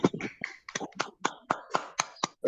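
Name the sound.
online meeting participants clapping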